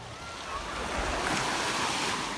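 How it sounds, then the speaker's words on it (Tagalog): Big ocean waves roll onto the beach at Saud, Pagudpud, in Ilocos Norte, making a steady broad roar of surf with wind buffeting the microphone throughout. "Ang lalaki ng alon dito, guys."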